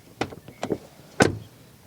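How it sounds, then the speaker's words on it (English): A couple of light mechanical clicks lead into a single solid thud as a Jeep Cherokee door shuts close by, then quiet. "Door closing sound."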